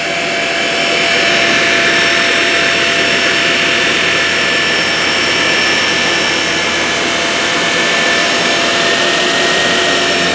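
A Shark Navigator Lift Away Zero M upright vacuum cleaner runs close and loud with a steady whining roar, holding constant for the whole stretch with no talk.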